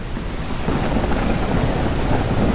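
Steady rain and rolling thunder in the video game Evil Mountains, a continuous wash of falling rain under a low, sustained rumble of thunder, with no talking.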